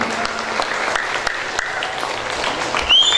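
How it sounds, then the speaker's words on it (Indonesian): Applause from a theatre audience at the close of a Teater Hitam Putih performance, a dense steady clatter of many hands that fills the room, with a short tonal sound at the very end. "Tepuk tangan lagi untuk koreografer dan seluruh kru dari Teater Hitam Putih."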